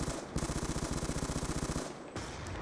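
Rapid automatic gunfire from a shooter video game, a steady burst of evenly spaced shots lasting over a second, then a brief pause and another shot, fairly close with no talk.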